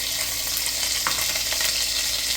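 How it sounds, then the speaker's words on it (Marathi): Ground green chili and coriander paste sizzles and spits in a hot frying pan while cooking a crab dish, a dense steady hiss with a brief sharper crackle partway through, close and with no talking. "आता आपण थोडंसं वाटलेलं मिरची कोथिंबीरीचं वाटण टाकूया"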